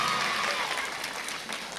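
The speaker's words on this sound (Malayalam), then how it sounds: "നല്ലൊരു കൈയടി കൊടുത്തേ" Audience at a kids' festival applauding, a dense, steady wash of hand claps lasting the whole moment at moderate distance.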